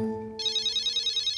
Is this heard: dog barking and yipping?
no